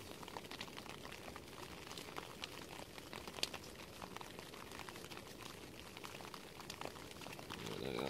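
Steady bubbling and hissing of water coming to a boil, with scattered crackles and pops throughout, close and fairly quiet.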